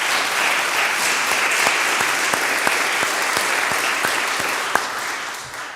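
A city council candidate forum audience gives a round of applause, a steady wash of many hands clapping at even loudness with a few sharper individual claps standing out, fading slightly at the end.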